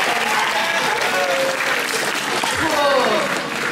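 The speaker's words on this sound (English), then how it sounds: "can you give a round of applause actually for Wilson and Nick" An indoor audience claps and cheers in a round of applause, a dense, steady wash of hands at close range lasting the whole moment, with voices mixed in.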